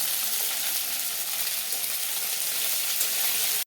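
Broiler chicken meat with onions frying in a pan for a raw-turmeric curry gives a steady, close, loud sizzle that holds evenly throughout and cuts off abruptly at the end, with no voices.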